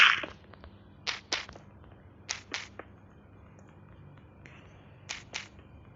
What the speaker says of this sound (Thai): ขุดบล็อกไปเรื่อยๆ